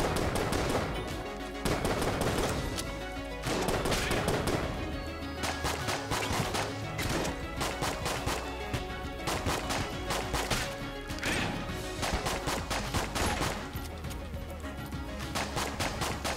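Dense, continuous video game gunfire in Enter the Gungeon: rapid enemy shots and crashing impacts pile up over a steady music bed, staying loud and busy from start to finish with almost no pauses.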